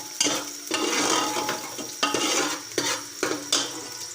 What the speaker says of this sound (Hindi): प्याज हमारा फ्राई होना शुरू हो गया है।